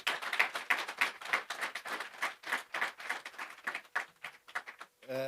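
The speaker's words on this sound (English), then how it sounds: "A big round of applause." A small audience at a media briefing claps in a brief round of applause, close and irregular, a few hands loud among the rest, fading out near the end.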